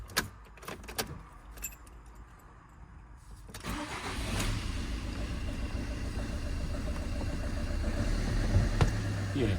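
A 2017 salvage-auction car rattles with keys, cranks and starts, then settles into a steady, close idle that grows slightly louder.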